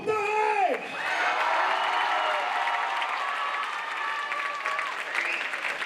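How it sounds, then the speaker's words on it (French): A live crowd at a breakdance event claps and cheers loudly for a jury member, with whoops and shouts over steady applause that swells and holds throughout, starting after a brief voice. "accueilli comme il se doit par le public. Faites du bruit pour Tarek"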